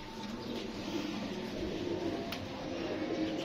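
Pigeons coo softly amid a dense, steady background hum, their low murmuring calls blending into continuous ambient noise.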